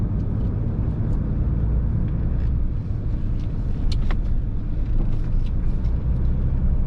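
A truck rolls along a campground road, heard from inside as a loud, steady low engine and tire rumble that persists throughout with no talking.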